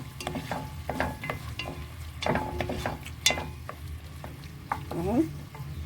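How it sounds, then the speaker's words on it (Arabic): Onion being stirred as it fries in a pan while cooking black-eyed peas, with a soft background sizzle broken by irregular scraping and clacking strokes of the spoon, moderately quiet and close, without speech. "نقلب البصله"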